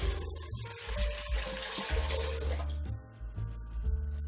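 Tap water runs steadily into a cooking pot for rice, a full close gushing pour with the tone rising slightly as the pot fills, no talk.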